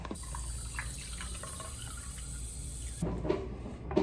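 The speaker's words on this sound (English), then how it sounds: "here's the water straight out the tap" Water running from a tap in Bakersfield, a steady close hiss of flowing water that cuts off near the end, followed by a few faint splashes and clinks.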